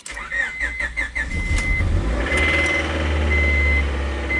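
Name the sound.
2000 Honda Prelude engine starting and idling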